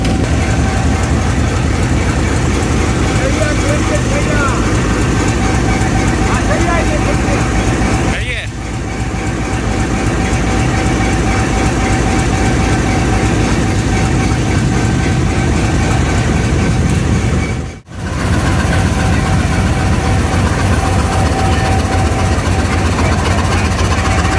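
Diesel train locomotive engine idling at a station during a mechanical check, a loud steady low rumble that runs unbroken for over twenty seconds, with two brief dips in level and no clear voices on top.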